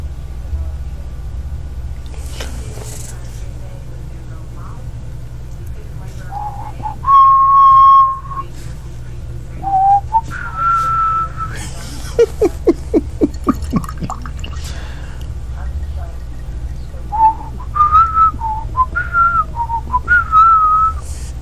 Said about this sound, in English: I can only whistle so much of that